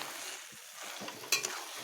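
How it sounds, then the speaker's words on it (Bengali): Taro leaf curry being sautéed in a pan, a quiet short stretch of soft frying hiss with a couple of brief utensil scrapes near the end. "এবার আমি এটিকে আরও একটুক্ষণ ভালোভাবে কষিয়ে নেব।"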